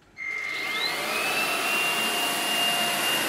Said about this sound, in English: That's the low speed. It's super quiet, and you can see it spinning and sucking things up.